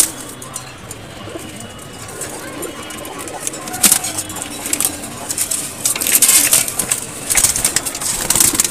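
Pet pigeons fight, with soft cooing early on, then bursts of flapping wings and scuffling that grow louder and denser near the end, heard close up.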